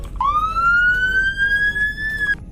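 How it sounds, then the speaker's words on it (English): A sheriff police car siren in the Roblox game Greenville sounds one loud, clear wail that sweeps up and then holds steady for about two seconds before cutting off. "First siren on the Sheriff version."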